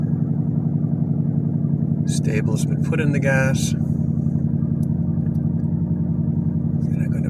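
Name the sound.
Ford Mustang Boss 302 engine idling while warming up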